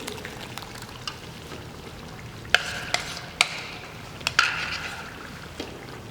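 Tomato puree being cooked in a pan with spices such as red chili powder for restaurant-style dal makhani: soft stirring and faint sizzling, broken by several sharp utensil clinks against the pan.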